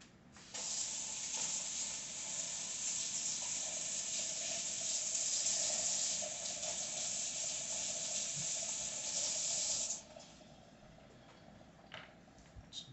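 Warm tap water runs steadily over a foam soap dispenser pump being rinsed, a bright, even hiss lasting about nine seconds before stopping, followed by faint handling noises.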